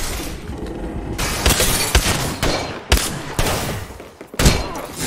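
Loud gunfire from a match in the battle royale Apex Legends, with heavy shots and bursts arriving in uneven clusters amid crashing impacts, filling the moment with no talk.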